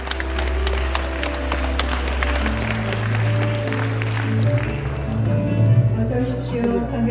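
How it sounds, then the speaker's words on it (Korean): Audience applause welcoming two professors onto stage at a humanities forum in an Andong arts centre hall, steady crowd clapping throughout with low music playing underneath. "여러분 뜨거운 박수로 환영해 주시기 바랍니다"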